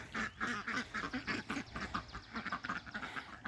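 Ducks on a small farm quack in a rapid, overlapping string of calls, fairly close but quiet, with no talking.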